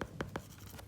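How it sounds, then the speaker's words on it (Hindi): A pen or marker scratches out a few quick strokes, three short dry swipes close by, with a faint rustle after them and no talking. "रुकिए मैं थोड़ा इसको और नीचे लिख देता हूँ"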